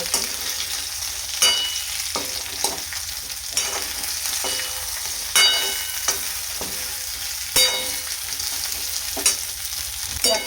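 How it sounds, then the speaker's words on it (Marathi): Okra stuffed with masala frying in oil in a pan, a steady close sizzle with periodic louder bursts as it is stirred, no voices. "तर आता तेलामध्ये भेंडी आहे ती छान परतून घेतली."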